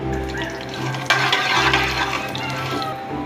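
Cumin seeds and whole black peppercorns dropped into hot oil, a sudden loud sizzle that settles into steady frying hiss with faint stirring, close up with a low hum underneath.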